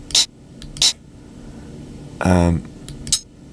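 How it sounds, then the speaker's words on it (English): Open hi-hat drum sample triggered in an Ableton Drum Rack: two bright metallic hits in quick succession, then a short spoken word, then a third sizzling hit near the end. "When listening to this open hat has a sort of a metallic kind of characteristic to it."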